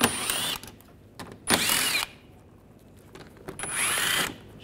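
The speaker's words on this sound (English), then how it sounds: "Use an 8 millimeter socket," Power ratchet driving an 8 mm socket to remove undercar cover bolts on a 2009-2010 BMW 5 Series, heard as two loud, close whirring bursts of a second or so each with short clicks between.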